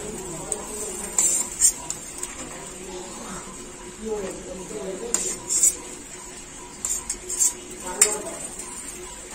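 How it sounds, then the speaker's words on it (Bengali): Fried bitter gourd pieces go into a pan of simmering mixed-vegetable shukto curry, with light metallic clinks and scrapes of a utensil against the pan under quiet talk. "আমি এই উচ্ছে ভাজাগুলো দিয়ে দিচ্ছি উচ্ছেগুলো ভেজে তুলে রেখেছিলাম ওগুলো দিয়ে দিচ্ছি"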